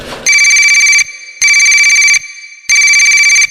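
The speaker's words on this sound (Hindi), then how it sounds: "उसका फोन बजा" A telephone rings loudly in three electronic bursts with short pauses between them.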